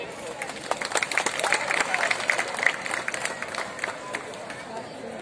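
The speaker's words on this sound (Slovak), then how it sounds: "Ďakujeme za potlesk." Audience applause for a Trnava cimbalom band at the Trnavská brána 2020 event, a dense, steady wash of many hands clapping from a crowd, sustained throughout with a faint murmur of voices mixed in.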